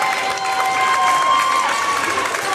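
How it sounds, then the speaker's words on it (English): Fans at a girls' high school district quarterfinal basketball game applaud the departing seniors, a steady wash of clapping and crowd noise under a commentator's voice. "give their seniors a nice round of applause as they leave"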